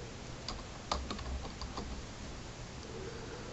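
Keystrokes on a computer keyboard as a search term is entered in a Windows Start menu, a short run of light, close clicks with a slightly stronger tap near the start, over a steady low room hum.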